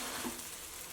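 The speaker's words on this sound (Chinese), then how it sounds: "煎到定型之后呢，给它翻下面。" Sweet potato starch batter frying in oil in a nonstick pan gives a faint, continuous sizzle throughout, with a slight swell near the start and no voices.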